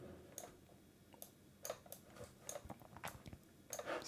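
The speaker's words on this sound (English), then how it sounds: "making like a ticking sound or something" A ticking pattern built from two small percussive music samples, sharp clicks repeating in an uneven rhythm against a faint background hiss, quiet and with no voices.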